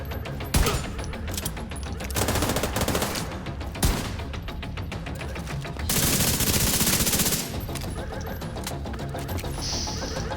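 Rapid automatic weapon fire from a high rate-of-fire gun in the shooter game The Division 2, loud bursts and sustained rattling volleys broken by short pauses, with a sharp single shot and a harsh crash among them.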